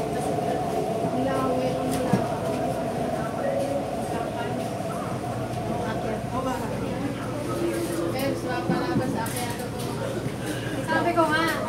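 Interior of a Hong Kong MTR subway train, a steady rumbling hum of the carriage running throughout with brief clatters, while bilingual announcements and nearby passengers talk over it.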